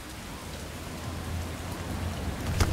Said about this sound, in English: Plus, we've got all of this rain.